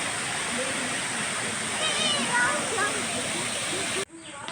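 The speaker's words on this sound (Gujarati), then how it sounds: "ઉપરથી જે પાણીનો પ્રવાહ આવે છે" Steady, loud rush of a mountain stream on Girnar mountain, a continuous broadband roar close by, with faint voices underneath before it cuts off abruptly.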